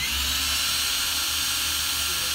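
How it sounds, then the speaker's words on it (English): A power drill pre-drills a hole in a window shutter, a steady high whine running without a break for a couple of seconds. "So we're gonna pre-drill this"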